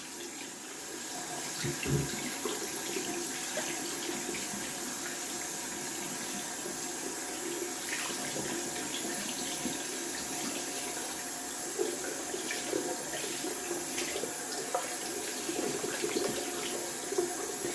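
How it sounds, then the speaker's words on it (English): Water from a running tap rinsing lather out of a large-knot shaving brush, a steady hissing splash that stays continuous and close throughout, with occasional louder sloshes as the brush moves under the stream. "Just gonna wash out the brush."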